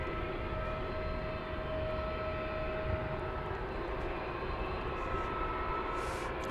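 An Alaska Airlines Boeing 737-900 at DFW Airport bound for Seattle gives a faint, steady engine rumble with a thin whine, heard from a distance.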